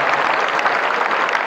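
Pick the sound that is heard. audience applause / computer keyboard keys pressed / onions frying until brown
audience applause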